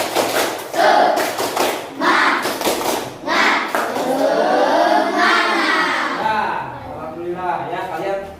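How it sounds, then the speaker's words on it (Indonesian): Students in a classroom do a patterned spirit clap in quick, sharp bursts near and fairly loud, then chanting and a teacher's voice take over. "Ayo, tepuk semangat."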